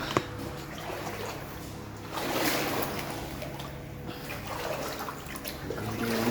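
Waist-deep water in a hidden underground river in Samar, Philippines, sloshes and trickles around a wading explorer, a moderate wet churning that rises and falls with echoing cave ambience and no speech.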